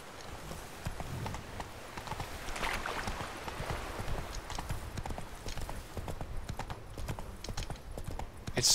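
Hooves of the horse Roach clip-clopping in The Witcher 3, a steady quick rhythm of soft thuds over faint ambient background, moderately quiet and continuous.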